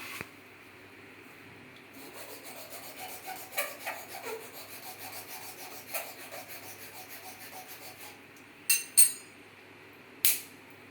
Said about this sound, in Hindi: मैंने इसको फाइल से थोड़ा सा घिस दिया और उसके बाद ये हो गया